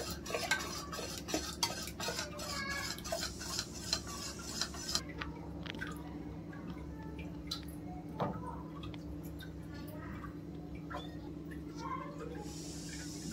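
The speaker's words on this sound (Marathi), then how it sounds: "आता याला चांगले आपण मिक्स करून घेऊया" A spoon stirs cooked mixed dal with garlic and tomato in a pot, producing repeated wet squelching scrapes and metallic clinks against the pot, close by and moderately loud.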